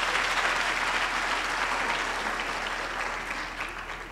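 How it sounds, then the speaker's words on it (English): Audience applause fills a graduation ceremony hall at a university main campus: dense, steady clapping from a large crowd, close and sustained, easing slightly toward the end with no voices over it. "Let's give them a big round of applause"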